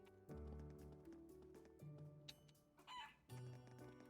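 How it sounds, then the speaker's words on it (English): A rooster crows in the video game Trails of Cold Steel IV, set among game music and other farmyard sounds, clear and moderately close, with no talk. "Rooster."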